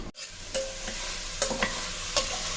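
Mutton cooked without onion or garlic fries dry in a pan, with a steady low sizzle and a few sharp scrapes of stirring.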